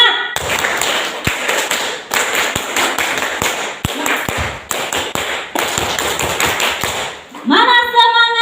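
A group of teachers claps in a rhythmic pattern at a school event, sharp bursts of hand claps in repeated sets with short pauses, ending in a cheer.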